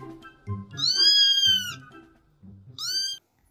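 Two cat meows, a long drawn-out one followed by a shorter one, clear and close over soft low music.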